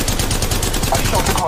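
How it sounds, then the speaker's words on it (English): Rapid gunfire from the Apex Legends Mobile video game, a dense continuous burst of automatic shots with a steady rattling rhythm, loud and close throughout with no pauses. "I shot the cargo bot."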